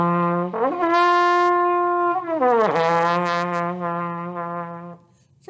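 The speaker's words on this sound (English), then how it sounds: "With the trumpet, when I smear it," A solo trumpet holds a note, then smears upward in a sliding glide between notes, sustains, and slides back down before settling again, close and clear.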